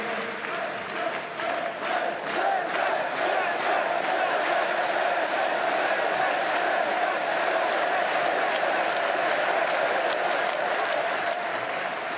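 Rally crowd at a presidential campaign meeting, applauding and cheering steadily throughout, dense and loud with sharp clap transients and shouts, no distinct speech.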